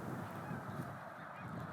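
Snow geese honking steadily during migration, a dense flock of thousands calling together in a continuous, overlapping clamour at moderate distance with no voices.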